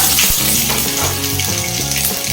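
Mustard seeds, cumin and curry leaves sizzle in hot oil on a lowered gas flame for kanda poha. The crackling and spitting is loud, dense and continuous, close by, with no talk.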